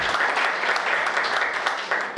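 An audience at a poetry recital bursts into steady, dense applause that holds at an even level for a couple of seconds.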